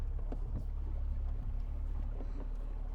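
A boat motor rumbles steadily and low with constant wind buffeting as the boat leaves a ramp on an Ozark mountain lake, a continuous roar throughout.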